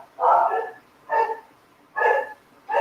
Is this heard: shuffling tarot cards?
no